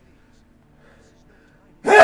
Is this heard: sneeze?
yes